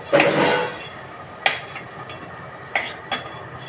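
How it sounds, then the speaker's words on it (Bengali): Lightly fried potatoes lifted out of a frying pan with a metal utensil: a few sharp clinks and scrapes of metal on the pan, spaced out over faint background hiss, with no talking. "এই যে আলুগুলো আমি তুলে নিচ্ছি, বেশি ভাজলাম না, হালকা করেই ভাজলাম"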